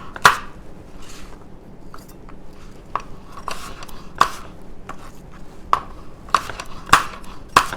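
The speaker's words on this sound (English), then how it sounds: "So I'm just going to chop this into pretty small pieces." Knife chopping an apple into small pieces on a cutting board, a series of sharp irregular taps close by with quieter cutting between them.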